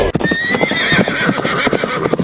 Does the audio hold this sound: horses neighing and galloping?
yes